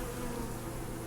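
Honey bees buzz in a steady, dense drone close up during a hive inspection, with no talking over the continuous hum.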